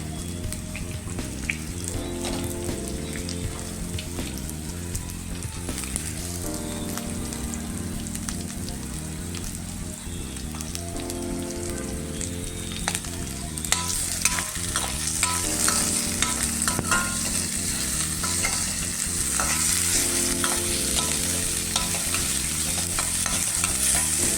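Onion and curry leaves fry in a pan for soybean kheema, a constant crackling sizzle with stirring scrapes, moderately quiet and steady with no talking.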